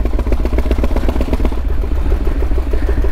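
A hand-built 5000cc V-twin motorcycle engine runs at a slow, loping idle, its deep rhythmic pulses thudding close and loud with a mechanical clatter throughout.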